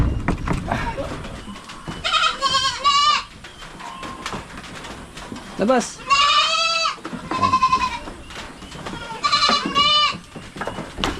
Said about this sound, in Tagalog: Isang kambing ito, parang gusto niyang lumabas.